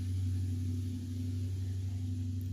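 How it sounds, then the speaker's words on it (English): A huge truck drives past outside, heard as a steady low engine rumble and drone that holds throughout, moderately loud and unbroken. "there's a huge truck going past"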